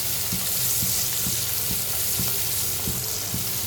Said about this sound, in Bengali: আমি দিয়ে দিলাম রসুন কুচি, পেঁয়াজ কুচি, একদম লাল লাল করে ভেজে নেব